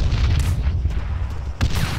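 Gunfire in the military shooter Arma 3, a dense run of loud, close booming shots and cracks with a sharp burst near the end, no voices.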